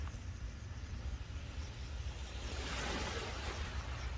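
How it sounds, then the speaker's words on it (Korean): Ocean waves wash onto a small beach at night in early August, a soft continuous surf with some wind noise, fairly faint and without talk. "아 조그만 바닷가인데요"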